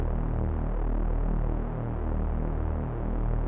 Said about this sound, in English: I'll make a detuned saw, maybe with a little filter once again. We'll place a bass note.